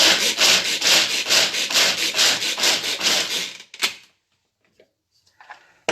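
A small electric food chopper chopping nuts rattles and grinds in quick, rhythmic bursts for a few seconds, then stops, leaving faint clicks.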